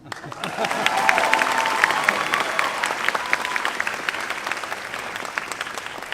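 Graduation ceremony crowd applauding honorees called up to the stage: dense, sustained clapping that swells in the first second and holds steady, with a few scattered cheers mixed in.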